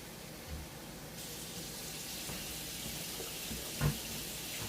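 Water runs steadily from a tap while a batch of FFWP hash is washed, a continuous broadband hiss with a brief louder splash near the end, no talking.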